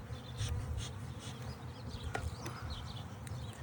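Honey bees buzz steadily around an opened, crowded hive during a February inspection, a dense droning hum with individual bees zipping past close by.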